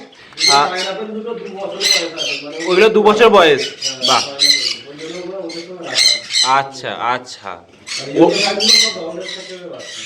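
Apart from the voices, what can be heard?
conure parrots squawking at a bird farm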